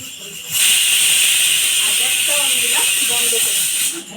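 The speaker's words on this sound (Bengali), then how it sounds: "আর এক সিটি এখন মারবে" A pressure cooker whistle releases steam in a loud, continuous hiss lasting several seconds, with a voice faintly underneath.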